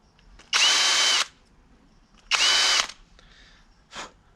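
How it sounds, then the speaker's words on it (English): A power tool deburrs a freshly cut unistrut channel in a van camper conversion, giving two loud, steady buzzing bursts of about half a second each, then a shorter faint whir. "Just deburr this one."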